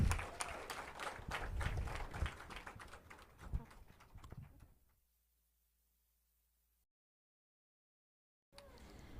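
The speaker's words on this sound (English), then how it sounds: "Let's give her another round of applause, please" Crowd at a vessel commissioning ceremony in Georgetown, Guyana applauding after a sung performance, a loud burst of clapping that fades out and drops to silence, with a short return of sound at the end.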